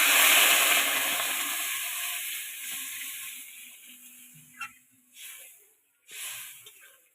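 Water hits a hot pan of fried spices for a fish curry with fresh winter vegetables, giving a loud sizzling hiss that slowly fades over several seconds, followed by a few short, softer bursts.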